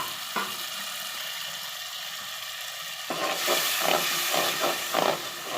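Spices sizzle and hiss steadily in hot oil for a small fish curry, the frying growing louder and more crackly halfway through, with no talking.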